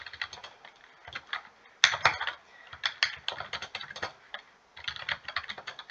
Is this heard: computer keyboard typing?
yes